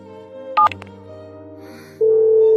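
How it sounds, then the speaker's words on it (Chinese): A telephone being dialed: a short burst of keypad tones, a brief pause, then a loud steady ringback tone starting near the end, over a quiet indoor background without talk. "我马上给我爸打电话。"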